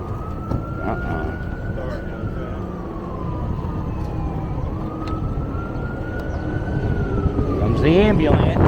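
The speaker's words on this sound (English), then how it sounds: "The ambulance." An ambulance siren wails in a slow rising and falling sweep while passing through Kensington, steady over road traffic rumble, growing louder toward the end with a voice briefly heard.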